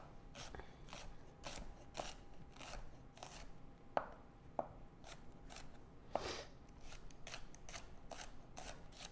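Rapid, uneven knife chops through shallots on a cutting board, a steady series of sharp close taps with a few louder knocks, no talking.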